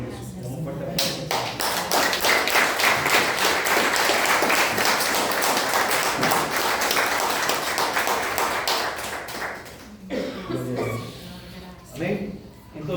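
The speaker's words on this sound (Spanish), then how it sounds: "Damos un fuerte aplauso" A church congregation gives a loud, sustained round of clapping that fills the room for about nine seconds, then fades into scattered claps while voices speak and call out.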